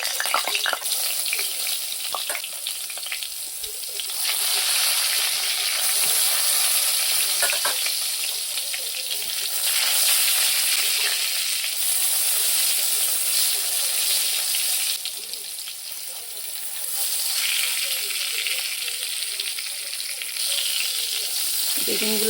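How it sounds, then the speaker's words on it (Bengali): Eggplant pieces coated in salt and turmeric frying in hot oil, a steady dense sizzle that holds loud throughout, with occasional spattering crackles close by and no talking. "তেলটা গরম হয়ে গেছে, বেগুনগুলো আস্তে আস্তে দিয়ে দিচ্ছি।"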